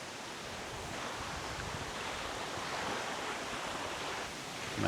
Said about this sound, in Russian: но волны очень большие.